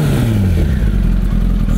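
A motorcycle engine revs under a twist of the throttle, a loud, steady low rumble that climbs and falls in pitch across the short stretch, close by and with no talking over it.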